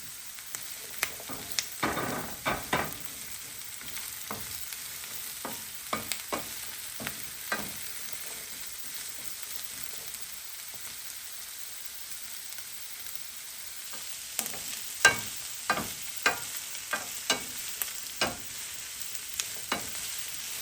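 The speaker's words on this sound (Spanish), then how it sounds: "Una vez que ya la cebolla está tiernita, le vamos a poner los chiles." Green chiles sizzling in a pan with softened onion, a steady close frying hiss broken by frequent sharp clicks and scrapes of stirring that bunch up around the start and again toward the end.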